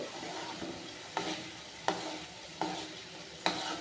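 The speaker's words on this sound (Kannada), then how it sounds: "ಇದೆಲ್ಲ ತುಪ್ಪ ಆಗಬೇಕು ಆಗೋವರೆಗೂ ನಾವು ಅದನ್ನು ಬಿಸಿ ಮಾಡ್ತಾನೆ ಇರಬೇಕು" Milk cream being heated into ghee in a pan gives a soft continuous sizzle, broken by four or five scraping stir strokes at roughly regular intervals, close and fairly quiet, with no voices.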